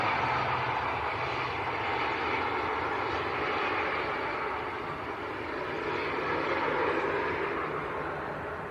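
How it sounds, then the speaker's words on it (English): A Lufthansa jet bound for Munich rolling down the runway for takeoff at Manchester Airport, a broad steady engine roar that holds strong for the whole stretch, heard alone without voices. "Lufthansa on the roll."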